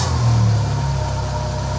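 A Mitsubishi Evo X engine revs briefly, a close, loud swell of engine roar that rises and then settles back toward a steady idle.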